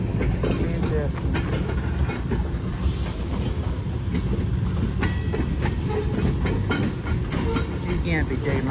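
A Hamilton Northwestern Railroad freight train rolls past slowly and close by, a dense steady rumble with rhythmic clickety-clack of wheels over rail joints and occasional metallic squeaks, while someone talks over it.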